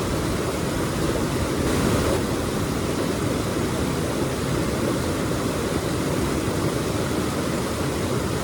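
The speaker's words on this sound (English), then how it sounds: "listening to the running river" A running river flows steadily nearby, a constant broad rushing wash of water with no pauses, loud and alone without any voices.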